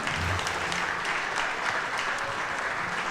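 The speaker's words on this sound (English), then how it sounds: "How about a big round of applause for the guys tonight?" Continuous applause from a live audience at a Packers clubhouse event honoring guest players, even and full for the whole stretch, with faint voices underneath.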